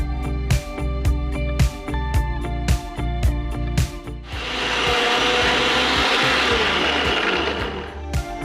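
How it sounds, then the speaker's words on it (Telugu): A mixer grinder coarsely grinds amaranth leaf chutney, the motor starting with short pulsing bursts before settling into a loud, steady whirring grind that runs alone to the end. "నెక్స్ట్ మనం దాన్ని మిక్సీ పట్టేద్దాం."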